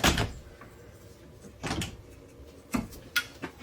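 A door is shut inside a 2023 Grand Design Imagine 2910 BH travel trailer, a series of thuds and rattling clunks spread over a few seconds, close and moderately loud without talk.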